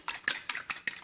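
A fork beating an egg in a bowl while making cauliflower and mushroom bites, four or five quick rhythmic clinking strokes against the bowl, close and fairly quiet, with no talking.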